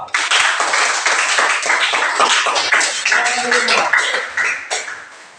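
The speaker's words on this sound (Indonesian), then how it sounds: "tepuk tangan untuk kelompok pertama" A group of people at a classroom teaching session claps for the first group of students, a dense burst of hand claps that stays busy throughout and thins out near the end, with some voices mixed in.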